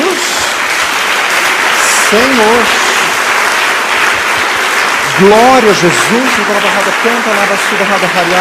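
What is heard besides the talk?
congregation applause in church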